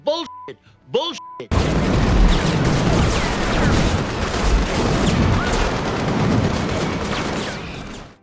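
Sustained automatic rifle fire in an action movie scene, a dense continuous roar of rapid shots and booms lasting several seconds after a short burst of speech-like voice.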